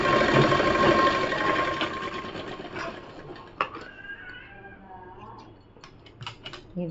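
A sewing machine stitches a palazzo pant in rapid bursts, a buzzing whir that is strongest at first and then fades into scattered clicks and short runs, with a voice audible in the background.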